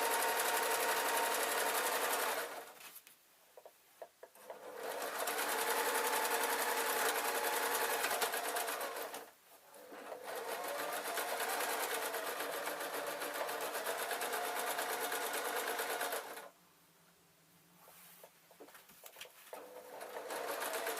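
A sewing machine runs steady straight stitches through trouser lining, loud and close, in long continuous bursts broken by two short pauses before the motor starts again.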